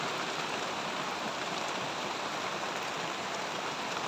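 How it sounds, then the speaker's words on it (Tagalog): Heavy rain pours steadily and loudly, a dense unbroken hiss of drops drumming on surfaces around a small hut, continuous from start to finish with no voices. "Lakas ng ulan?"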